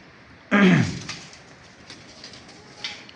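One loud, close coo from a racing pigeon in its loft bursts out near the start, then a few faint, scattered bird sounds follow over a quiet background.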